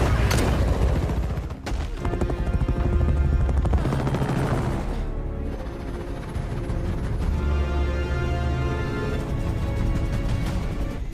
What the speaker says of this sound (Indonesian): Di saat itu juga, Andy mendengar suara heli.